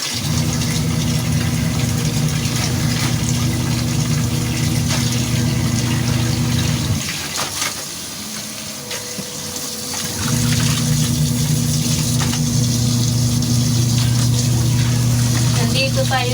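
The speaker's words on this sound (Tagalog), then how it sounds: "Magbanlaw tayo." Water running steadily in a home bathroom while laundry is rinsed, a continuous rush with a low pump-like hum that drops away briefly midway, then resumes loud and close.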